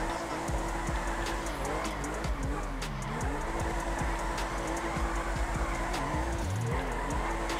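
Car drifting in GTA Online, with loud, continuous engine drone and repeated swooping tire squeals and skids, under a steady game mix with faint ticking.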